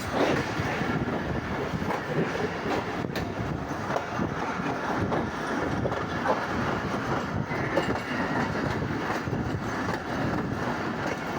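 The Tezgam Express passenger train in Pakistan rumbles along the rails at night with steady clattering and wheel noise, a continuous broad roar that stays fairly even throughout.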